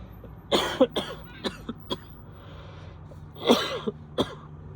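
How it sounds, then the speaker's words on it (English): Several coughs, a pair of heavy, harsh bursts with lighter single coughs and throat sounds between them, close by with no talking. "cough is coming up"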